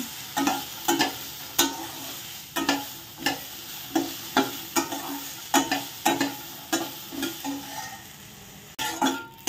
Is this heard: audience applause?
no